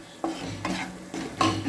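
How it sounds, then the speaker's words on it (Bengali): Spice paste stirred and sautéed in a pan for a Bengali mustard pabda fish curry, heard as a few distinct scraping strokes of a spoon over a low, steady sizzle, close and fairly loud, with no talking. "এবার মশলাটা একটু কষিয়ে নুন দিয়ে দিলাম"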